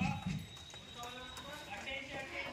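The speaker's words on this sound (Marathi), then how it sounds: "आता पा किती सारे बैल आले." A group of bulls clip-clops past at a village gathering, the hoofbeats faint and scattered beneath people talking and calling out.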